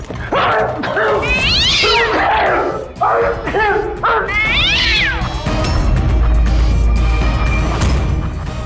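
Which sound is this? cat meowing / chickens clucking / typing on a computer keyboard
cat meowing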